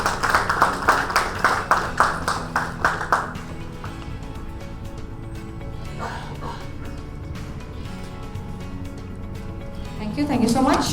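Audience claps at an HR conclave in a Chennai hotel, a few seconds of brisk clapping that quickly fades under a lingering room tone, with a voice returning at the end.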